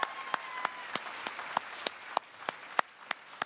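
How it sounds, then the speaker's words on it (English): An audience at the 2017 Saskatchewan Country Music Awards in Saskatoon claps in sharp, evenly spaced beats, a thin rhythmic applause that carries clearly through the hall without any talking. "let's give Saskatoon, our host city, a round of applause"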